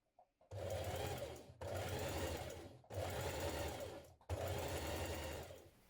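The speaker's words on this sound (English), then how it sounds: "I'm going to stitch those in place now." Sewing machine stitching trousers with an elasticated waist: four fast, steady runs of close mechanical whirring and needle chatter, with brief pauses between them.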